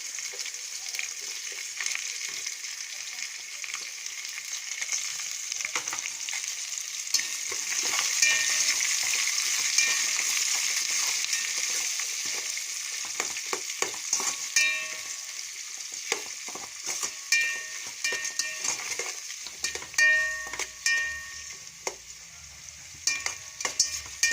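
Chopped onions and green chillies fry in a hot pan with a steady, bright sizzle that swells and eases, broken by small crackles and stirring scrapes near the end, close and continuous with no talking.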